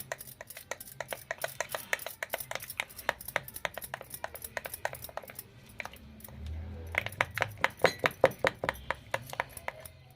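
Boondi batter mixed with food colouring is stirred in a bowl, giving quick, steady clinks of a utensil against the bowl, loud and close, in two long rhythmic runs split by a short pause.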